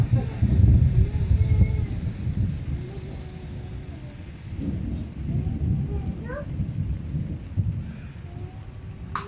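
An extreme thunderstorm in the Vosges mountains, with low rolling thunder and gusting wind rumbling continuously across the whole stretch, while people talk quietly nearby.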